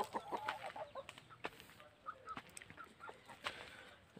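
Hens clucking and murmuring close by, with a brooding hen on eggs, short irregular calls scattered across a soft farmyard background.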